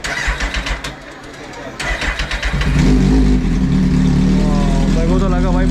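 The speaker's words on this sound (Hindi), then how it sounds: "तो ये है अपने गाड़ी का कॉल स्टार्ट।" A motorbike cold-started after sitting unused for about a month: a few seconds of quieter activity, then the engine catches and settles into a loud, steady low rumble with some revving near the end.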